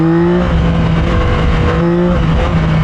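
A Yamaha motorcycle accelerates hard into a wheelie on a road loop, its engine a loud, close, steady drone with a strong humming tone that persists throughout and no voices.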